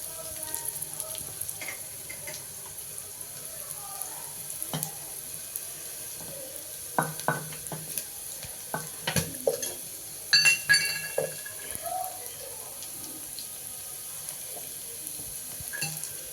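Moong dal and cabbage frying in a pan for a curry give a quiet, steady sizzle, broken now and then by brief scraping and clinking of a utensil against the pan; no voices.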